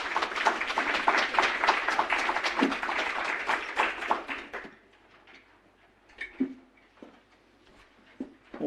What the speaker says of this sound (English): perhaps we could give our panellists a round of applause